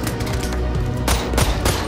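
Gunfire from snipers in the video game BoneLab Fusion, with several loud, close shots in quick succession over a dense, noisy game background.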